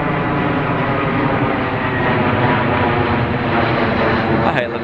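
A jet aircraft passes low over a home near an airport, a loud steady roar filling the clip from start to finish, with someone talking over it.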